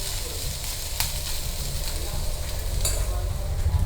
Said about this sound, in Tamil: அப்படியே பரப்பி விட்டுட்டிங்கன்னா நல்லா ரோஸ்ட் ஆகிடும்.